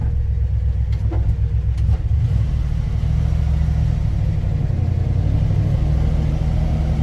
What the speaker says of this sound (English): We are definitely in low gear.